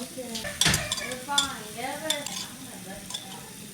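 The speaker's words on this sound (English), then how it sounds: "So add in the chili garlic sauce." Chili garlic sauce being stirred into a sizzling pan during egg-white meal prep: a steady, low frying hiss with close, soft scraping and clinks of a spoon on the pan, no talking.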